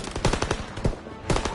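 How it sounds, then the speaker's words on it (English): Machine guns opening fire in the World War II shooter Call of Duty WWII, rapid loud bursts of automatic gunfire with overlapping shots and a brief lull before another burst. "MGs, open fire."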